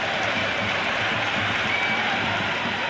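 A packed crowd at an India versus England T20 cricket match roars and applauds in a dense, continuous wall of sound after a big hit flies into the stands.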